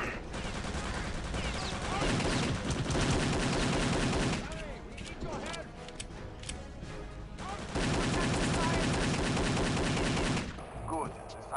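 Gunfire from a weapon in the video game Return to Castle Wolfenstein: loud bursts of rapid shots in several clusters, separated by brief quieter gaps with game sound.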